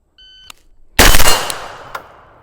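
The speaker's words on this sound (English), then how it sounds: "2 shots." Two loud, close rifle shots from a Geissele Super Duty GPR, one sharp crack followed by a ringing tail and a fainter second report about a second later.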